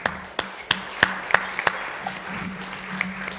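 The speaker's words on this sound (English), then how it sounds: "One more round of applause there." A tech conference audience at ClueCon 2024 giving a thin round of applause for a demo, a handful of separate sharp claps spaced across a few seconds over a low steady hum, sparse rather than a full ovation.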